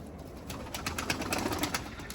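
Pet pigeons flown from a home balcony, soft cooing and faint wing flutters close by, quiet and steady with no talking.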